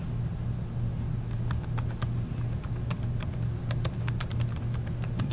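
Someone types on a computer keyboard in quick, uneven bursts of close key clicks over a steady low hum, with no talking.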